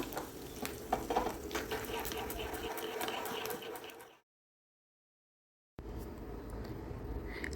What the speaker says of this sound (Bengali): তরকা প্যানের মধ্যে এক চামচ তেল দিয়ে তার মধ্যে এক চামচ সর্ষে দিয়ে দিলাম সর্ষেটা ফুটতে থাকুক